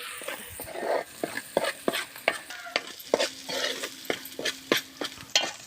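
Masala and garlic paste frying for a fish curry in a pan over a wood-fired stove, with a steady sizzle and repeated sharp scrapes and clinks of a spoon stirring close by.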